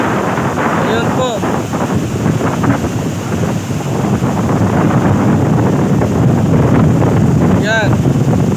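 Loud, continuous wind noise roars over surging sea waves during Typhoon Karina in the Philippines, with scattered distant voices mixed into the blustery rush.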